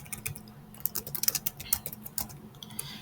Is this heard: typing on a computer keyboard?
yes